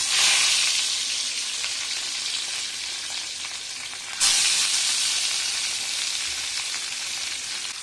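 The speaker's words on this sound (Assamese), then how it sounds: "ইয়াতে মাছকেইডোখৰ এপিচ এপিচকৈ দিম মই এতিয়া আৰু এনেকুৱা তেল উফৰিছে নহয়" Pieces of fish frying in hot oil for a fish curry, a loud, steady, close sizzle with a fresh burst partway through as another piece goes into the pan.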